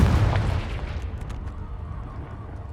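A Confringo blasting spell goes off in a cave in the game Hogwarts Legacy: one loud, deep explosive boom that rolls out and fades slowly into a rumbling tail.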